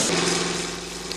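An old bulldozer engine drives a large suction pump at a tin-mining trench, a loud, steady mechanical idle with a constant low hum, heard alone.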